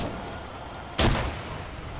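A single frag grenade detonates in a tactical shooter ship and oil rig assault, a sharp loud blast lasting a fraction of a second with a short rumbling tail over quiet background.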